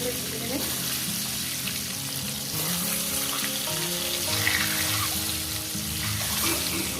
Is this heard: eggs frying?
yes